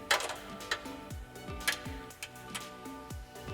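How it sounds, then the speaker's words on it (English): A 10mm wrench works the nut on a Jeep JLU 4xe crossmember, giving a quick series of close, light clicks at an uneven rhythm with small metallic knocks between them. "Using a 10mm wrench, remove the nut on the crossmember holding down your coolant lines."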